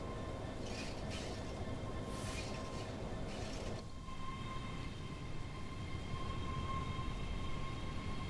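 A Class 385 electric train in Train Sim World 4 on the Edinburgh to Glasgow route hums and rumbles steadily at low volume, with a faint tonal whine throughout and no talking.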